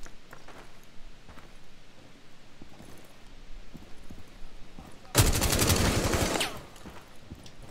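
A loud burst of automatic gunfire in Rainbow Six Siege erupts after quiet ambient game sound, lasting about a second, near and harsh.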